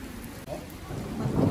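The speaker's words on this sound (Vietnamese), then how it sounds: "Các bạn ơi, mưa nè." Heavy rain pours steadily during a thunderstorm in Germany, a dense wash of drops on surfaces with a low rumble of thunder building toward the end.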